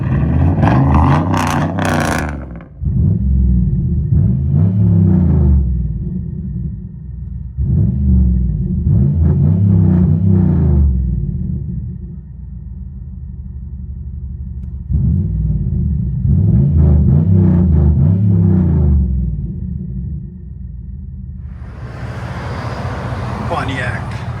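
A straight-piped 2008 Pontiac Grand Prix GXP with a 5.3-liter V8 rumbles loudly from inside the cabin, repeated rev surges rising and falling over a deep idle, with a voice talking over the engine.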